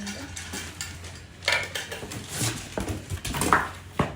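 Heavy stainless steel pressure cooker being handled, giving scattered metallic clanks, taps and scrapes, fairly close, in irregular bursts against a low background hum.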